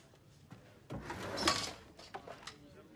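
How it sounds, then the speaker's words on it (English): A desk drawer slides open in an office, a single scraping, rubbing pull with a brief wooden knock near its end, close by and fairly faint, with quieter handling noises around it. "you're going to want to check the second drawer down"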